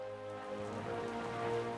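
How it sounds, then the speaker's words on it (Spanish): Rain falls steadily as a soft, even hiss beneath sustained music, with no voices heard over the short stretch. "empezó a llover."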